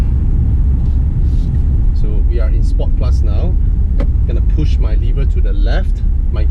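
BMW X3 in Sport Plus mode pulling away hard after a toll booth, a steady loud engine roar and road rumble heard from inside the cabin, with a voice talking over it throughout.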